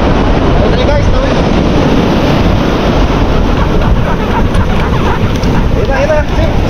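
Big ocean waves surge around a small boat during a bugaong outing, a constant heavy wash of water and wind roaring across the microphone, with people talking faintly beneath the din.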